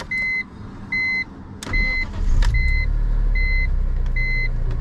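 A high-mileage car overdue for an oil change starts up: two electronic chime beeps, then the starter cranks briefly and the engine catches, settling into a steady, close idle while the chimes keep sounding.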